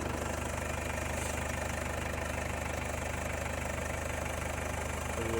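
A 2016 Mercedes C220 CDI AMG Line estate's diesel engine idles with the bonnet open, a steady close clattering rumble that holds an even level throughout without pauses.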